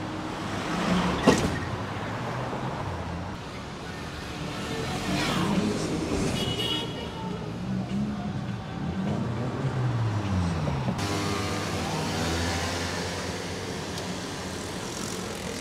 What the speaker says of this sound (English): that thing still picks up the signal and gets those cars passing